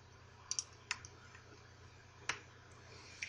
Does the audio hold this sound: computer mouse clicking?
yes